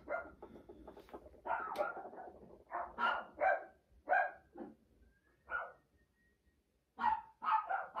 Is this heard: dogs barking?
yes